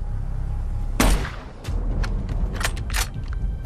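Sniper rifle fire from the 2007 film Shooter: a heavy, close shot booms, followed by several sharper, more distant cracks and impacts over a rumbling low background, with no speech.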